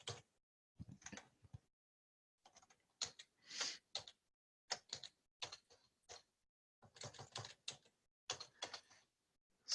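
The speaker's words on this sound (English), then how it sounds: "not the fastest typer in the world" Typing on a computer keyboard during an online meeting: short bursts of quiet, close key clicks separated by pauses, irregular and hesitant in rhythm.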